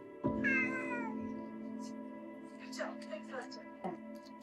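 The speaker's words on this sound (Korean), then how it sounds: "먹먹한 마음을 참지 못하고 울음소리를 토해낸 건 고양이 뺀질이었습니다." A stray cat lets out a long, plaintive meow up close, followed by a few shorter cries while a person speaks softly in the background.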